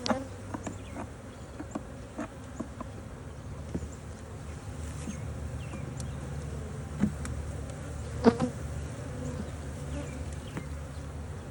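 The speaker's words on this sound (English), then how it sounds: "This is shaking a frame of bees." Honey bees hum continuously around an opened hive while a comb frame is shaken to knock them off, with soft scattered clicks and knocks from the frame over the faint, steady buzz.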